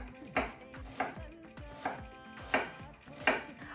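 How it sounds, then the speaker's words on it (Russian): A knife dices onion into small cubes on a cutting board for chicken tikka masala, giving about six evenly spaced, crisp chops close by. "Режем на мелкие кубики."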